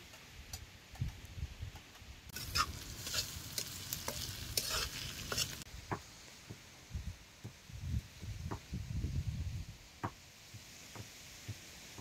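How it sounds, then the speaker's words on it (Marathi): Onion fries in oil in a pan, a soft steady sizzle with scattered spoon taps and scrapes, and a brief louder burst of hissing partway through; the whole sound stays fairly quiet and close. "कांदा तेलात लालसर होतो भाजून घ्यायचा"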